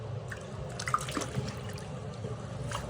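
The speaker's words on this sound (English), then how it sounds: "So what we want to do now is we want to drain the water." Dirty wash water drains away after AGV Pista helmet pads are washed, giving a steady soft trickle with a few faint drips and gurgles close by, no talking.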